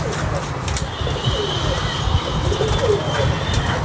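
Pigeons coo softly and repeatedly among an outdoor flock. The cooing sits over steady background noise, with faint bird calls at mid distance.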